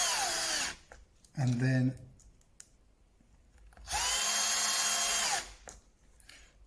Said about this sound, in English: So I'm going to screw this together